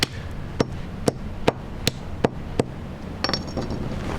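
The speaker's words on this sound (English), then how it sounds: "they crush readily, and then you just keep going until you get finer and finer particles" Mineral pieces crushed into finer particles on a cloth on the ground, heard as sharp, evenly spaced cracking impacts, about seven distinct hits with a quick cluster near the end.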